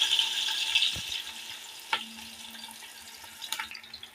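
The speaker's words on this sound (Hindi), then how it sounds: "अब सबसे पहले मैंने ऑयल गरम किया है और अब मैं इसमें डालने लगी हूँ प्याज" Onion going into hot oil for a beef biryani gives a steady hiss of frying that fades a little over time, broken by a few sharp clinks and stirring knocks.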